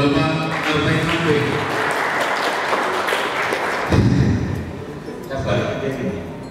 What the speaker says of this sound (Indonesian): Kita kasih aplaus sekali dulu untuk Bapak Arfai Mampi